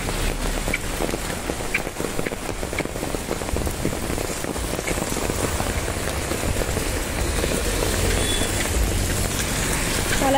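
Heavy rain pours down in Pune's Viman Nagar, a dense, steady hiss of drops drumming on surfaces close by. It holds loud and unbroken throughout with no voices.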